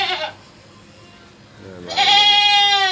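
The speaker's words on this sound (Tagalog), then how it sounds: "yan yung alaga nating kambing" Farm goats bleat loudly and close by, one wavering call at the start and a longer, strained bleat near the end, with a quiet pause in between.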